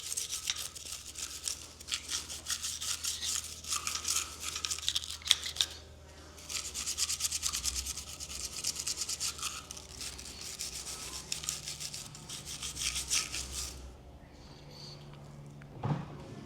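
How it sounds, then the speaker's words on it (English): A wire brush scrubs a handgun, likely a P320 M18 or Glock 17, in quick, close, raspy bristle strokes that come in bursts with a short pause near the middle and a soft knock at the end. "Then you would want to just scrub with the wire brush."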